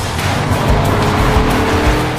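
A ŠKODA Superb 280 PS pulls hard under acceleration, its engine a loud, dense roar with a faint edge of tyre noise, steady and continuous for the whole stretch with no talking.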